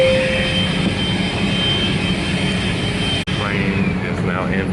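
A parked airliner's engines run with a continuous, loud jet hum and a faint high whine, heard steadily from nearby, with a brief dropout near the end.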